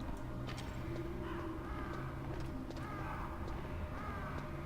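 Harsh crow caws repeat several times over a dense, steady wash of Metal Gear Solid game ambience and low rumble, moderately distant.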